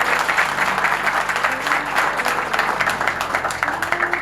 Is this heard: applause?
yes